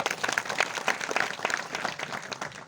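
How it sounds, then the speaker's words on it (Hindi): An audience at a gathering in Bhimashankar applauds for women who performed a dance. The clapping is moderately loud and uneven, with distinct individual claps that rise and fall. "उनके लिए भी तालियां बजाओ।"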